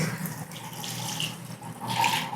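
Water runs steadily from a bathroom tap in a brick four-unit building in Chicago, a continuous close splashing hiss with no voices over it.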